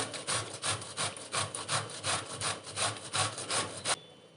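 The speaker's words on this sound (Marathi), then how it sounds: "आपल्याला हे अशा प्रकारे किसून घ्यायचं आहे मी हा अर्धा दुधी पूर्ण किसून घेणार आहे" Half a bottle gourd is grated on a hand grater in quick rhythmic strokes, about twenty raspy scrapes close up, ending abruptly near the finish.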